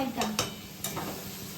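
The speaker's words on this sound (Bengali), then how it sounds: "এটা হচ্ছে চিকেন ভাজা, পেঁয়াজ ভাজা" Chicken and onions fry in a pan with a soft sizzle, broken by a few quick stirring scrapes of a utensil against the metal.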